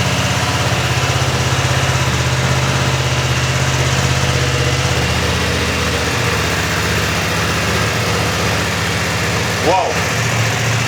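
A 2020 BMW F900XR motorcycle with a Euro 5 exhaust idles nearby in a steady low rumble that changes slightly partway through, while people talk over it.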